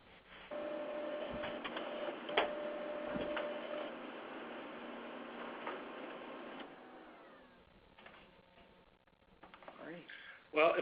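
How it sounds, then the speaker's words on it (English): An office printer spooling up during an online webinar, a mechanical whirring hum with ticking and clicking sounds across several seconds, faint and under the call's audio, with talk mixed in. "we do have someone's printer spooling up"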